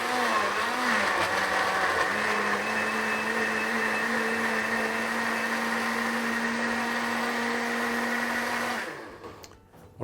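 An electric blender purees a shami kebab mixture with onions, giving a steady, loud whir that holds for about nine seconds before winding down.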